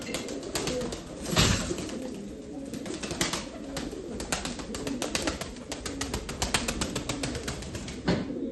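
Pigeons coo close by amid a busy flock, with bursts of wing flapping and scattered rustling throughout.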